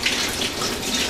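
Tap water runs steadily onto cheesecloth being wetted before making cheese, a continuous close hiss of flowing water with no talk.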